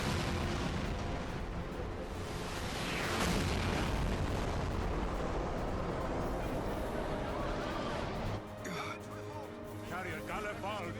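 A huge Extreme Ether Cannon volley in Final Fantasy 12, heard as a dense, roaring wall of blasts and rumble that swells midway. It drops near the end as game voices and effects take over.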